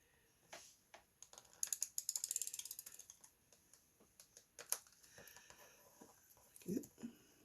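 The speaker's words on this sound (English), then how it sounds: "So I'm going to use my tape runner." A tape runner laying adhesive tape onto glossy card in a papercraft project, giving bursts of rapid clicking ratchet sounds between soft handling noises and a few taps, close and quiet.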